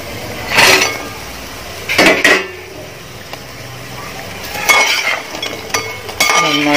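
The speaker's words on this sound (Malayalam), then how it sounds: "ഇനി നമുക്ക് ഇതിലോട്ട് ചിക്കൻ ആഡ് ചെയ്യാം." Chicken being added to cooked masala in a pan and mixed, heard as a few separate clinks and scrapes of a utensil against the pan with quiet gaps between them.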